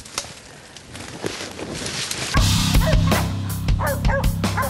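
Hunting dogs bark and yip at a bayed-up wild hog in thick Florida thorn brush, sharp repeated barks from several dogs growing louder and denser partway through over steady outdoor background noise.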